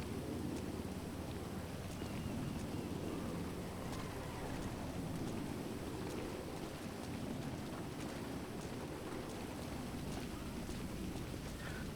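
Rain and thunder from a video game form a continuous hissing downpour with a low rumbling bed beneath it, steady and moderately quiet, with no speech over it.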